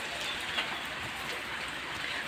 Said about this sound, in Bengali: আজকেও প্রচণ্ড বৃষ্টি হইতেছে